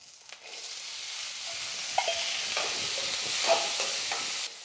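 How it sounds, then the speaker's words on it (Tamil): Cowpeas (karamani) sautéing in oil in a pan with onion make a steady, soft sizzle, with occasional spoon scrapes and stirring taps close by. "காராமணி போட்டு ஒரு ரெண்டு நிமிஷத்துக்கு எண்ணெயில் வந்து நல்லா வதக்கிட்டேன்"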